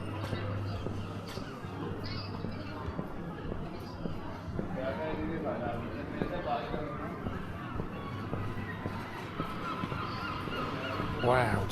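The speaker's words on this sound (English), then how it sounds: "The sound of seagulls." Seagulls call on a pedestrianised seaside high street in Torquay, Devon, honking cries rising over street bustle and footsteps while people talk nearby.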